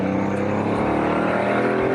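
A 1980s Porsche 911 sports car engine revs hard toward high rpm, a loud steady mechanical drone with a rising harmonic whine that fills the whole stretch, heard close with no voices over it.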